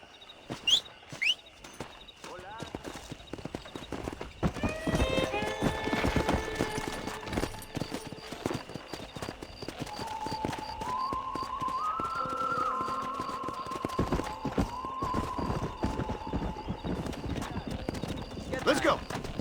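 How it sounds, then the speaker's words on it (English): Horse hooves clip-clop in a steady rhythm over ground in the video game Red Dead Redemption, with a horse whinnying and people talking over the hoofbeats. "Let's see if we can't wrangle some horses."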